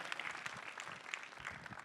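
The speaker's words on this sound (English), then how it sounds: "give him a big round of applause" Steady applause from a crowd, dense clapping that holds at an even level for the full couple of seconds with no voices rising above it.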